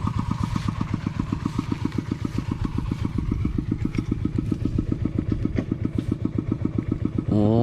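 A small eight-horsepower engine on a classic paddy-treading farm vehicle chugs steadily and loudly, its rapid regular firing beats running throughout with a rattle on top, then revving higher at the very end.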